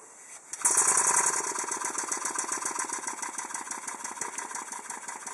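A vertical steam engine with ladders up to an overhead gantry starts after a brief quiet moment, then runs alone with a steady, fast, even rhythmic chuffing and mechanical clatter.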